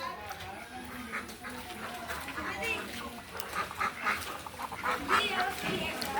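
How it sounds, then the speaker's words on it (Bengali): Ducks quack outdoors in a rural area during the rainy season, a scattering of calls mixed under a voice talking throughout. "আর হাঁস কতগুলো বাইরে এসে দেখছেন?"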